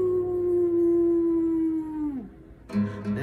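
A human voice imitates a wolf howl, one long sustained steady tone that bends downward and fades, followed by a short rougher burst; loud, close and alone.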